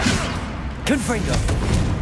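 The Confringo explosive spell in Hogwarts Legacy going off, heavy thumps and booms over a dense, loud game mix with a voice shouting, a sharp burst near the middle followed by quick impacts.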